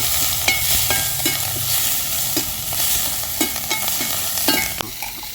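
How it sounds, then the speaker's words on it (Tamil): Green chilies and curry leaves sautéing in an oily pan, a continuous loud sizzle and hiss broken by scraping stirs and occasional spatula taps, close up. "கருவேப்பிலை கொஞ்சம் போட்டுக்கலாம். போட்டுட்டு நல்லா வதக்கிக்குவோம்."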